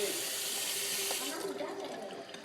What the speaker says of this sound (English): I'm going to add just a little bit more water to my pot